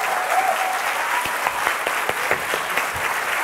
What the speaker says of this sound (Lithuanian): Pasistikime plojimais